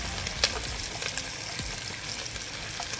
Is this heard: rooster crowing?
no